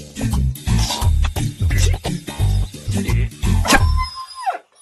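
A dog barks over and over, loud and close, in a steady run of yaps that ends with a short whine before going quiet.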